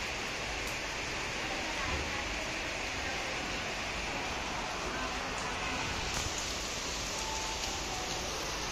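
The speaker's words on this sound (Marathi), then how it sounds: "नॉन स्टॉप सकाळपासून ह्या प्रकारे पाऊस पडत आहे, पाहू शकता तुम्ही।" Heavy, nonstop monsoon rain pours down in Pune, Pimpri Chinchwad, as a loud, dense, continuous roar of water that fills the whole stretch with no break.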